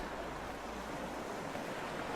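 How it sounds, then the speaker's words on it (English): Flowing water in the video game A Second Before Us makes a steady, even rush of broadband noise, like surf or a stream, that continues without pause and has no talking over it. "The water's moving a little slow, I think, but that looks cool."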